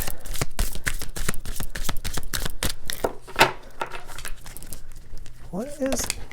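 Thick, oversized tarot cards are shuffled by hand, producing a rapid series of crisp riffling snaps and slaps, close and loud, ending with a brief rustle.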